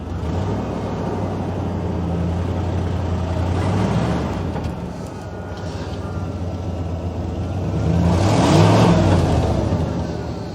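Ford F350 pickup truck engine running steadily with a low rumble, swelling slightly around the middle and again near the end as gears are shifted, with no talk over it.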